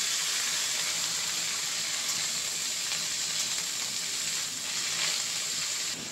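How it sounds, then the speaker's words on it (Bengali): Pumpkin vine greens fry in a little oil in a wok, giving a steady, bright hiss and sizzle that runs unbroken throughout with no voices. "আমি এদিকে এই অল্প তেলের মধ্যে শাকটা একটু আমি ভেজে নেব"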